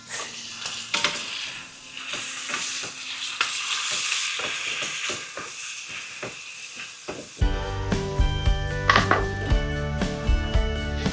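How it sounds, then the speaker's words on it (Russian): A knife chops an onion rhythmically on a board, close up, then the sound switches to loud sizzling as the onion hits a hot pan. "Я взял одну луковицу, сейчас порежем"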